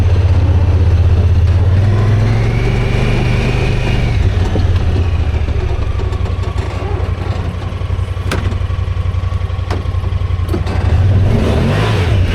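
A Honda Pioneer side-by-side, bought at auction as inoperable, revs its engine up and down nearby with a loud, rough throttle blip and a few sharp clicks, no one speaking.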